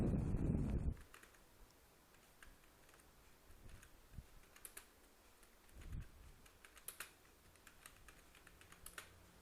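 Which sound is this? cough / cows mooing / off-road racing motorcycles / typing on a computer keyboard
typing on a computer keyboard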